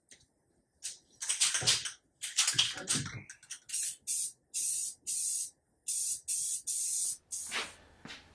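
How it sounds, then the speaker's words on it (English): A spray paint can hisses in a series of short bursts, the first few longer and uneven, then quick regular sprays with pauses between. "quick and easy spray paint it is"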